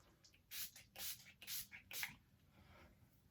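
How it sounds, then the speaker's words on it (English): Four short, quiet spritzes of Urban Decay De-Slick makeup setting spray in quick succession, each a brief airy hiss, followed by softer handling sounds. "I'm going to use my setting spray."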